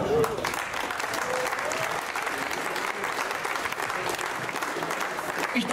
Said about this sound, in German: Alle Bürgerinnen und Bürger einen herzlichen Applaus für die Teilnehmer der 39. Tour der Hoffnung.